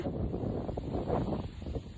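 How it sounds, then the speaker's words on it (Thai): Strong wind blowing outdoors beneath a large bodhi tree, a faint continuous rushing buffet against the microphone with slight gusting swells, no voices. "ลมแรงด้วยนะคะ ลมแรง ๆ"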